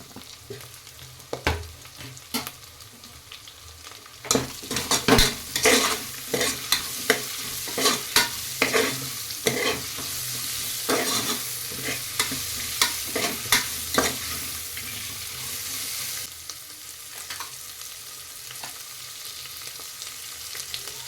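Onions and mint frying in ghee in a pot, a bright steady sizzle punctuated by repeated sharp scraping and knocking strokes of a spoon while stirring, close and busy throughout, with no speech.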